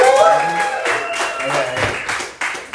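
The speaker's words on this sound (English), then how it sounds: "round of applause if you've done edibles" Audience applause at a comedy-style talk, a brief burst of clapping from the crowd with voices carrying over it before it fades.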